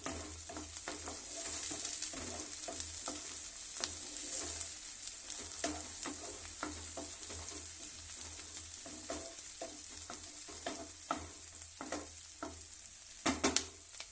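Green chillies frying in hot oil for a cauliflower palya, a steady crackling sizzle with occasional sharp pops and stirring scrapes, close and continuous throughout with no talking.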